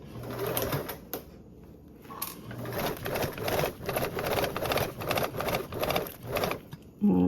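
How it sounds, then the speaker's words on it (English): A sewing machine stitches a seam and back tacks, running in short bursts of rapid whirring with brief pauses between, close and fairly quiet, with no talking. "sew up first and then back tack back"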